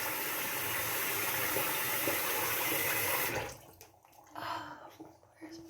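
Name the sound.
water rinsing soap off a face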